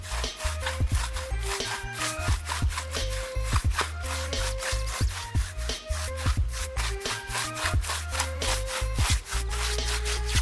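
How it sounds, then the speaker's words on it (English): A brush works yacht varnish into wooden boards for a floating house, making loud, close, rhythmic rubbing strokes repeated steadily, with no voices. "Using brushes, we apply the varnish to the boards, thoroughly rubbing it into the wood so it penetrates deeper"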